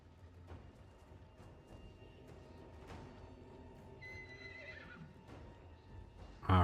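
A horse in the video game Total War: Warhammer 3 gives a clear, drawn-out whinny over soft hoofbeats and battle ambience, ending in a sudden loud burst.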